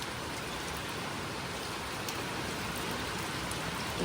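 Steady rain pours down over rice fields, a dense, even hiss of drops on surfaces that holds constant throughout, with no voices.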